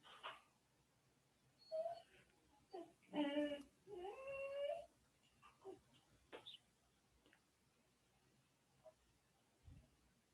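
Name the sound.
dog whimpering and barking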